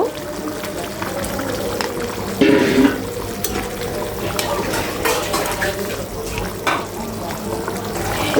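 Roast chicken with fried cumin and coriander powder is stirred in a pot, producing scraping and clinking over a wet, sizzling bed, close by with irregular bumps.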